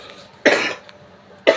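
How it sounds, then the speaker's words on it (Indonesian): Two short, harsh coughs, close and loud, spaced about a second apart with quiet in between. "Nah sekarang aku lagi batuk temen."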